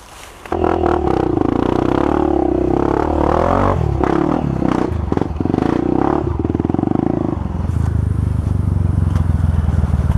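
A Honda CRF trail motorcycle stuck on a dirt trail roars and revs hard up close, with clattering and scraping as it breaks free, then settles into a steadier running engine.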